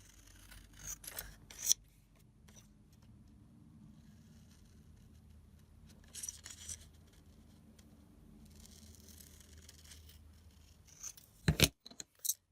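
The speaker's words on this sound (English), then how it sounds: "I'll use my straight scissors to cut these out." Several short bursts of straight scissors snipping paper, with quiet pauses between cuts and a sharper cluster of snips near the end.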